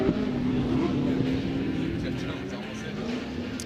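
A Toyota Supra drift car on a track at a qualifying event, its engine droning steadily at a distance under a commentator's voice, with faint crowd and track noise around it.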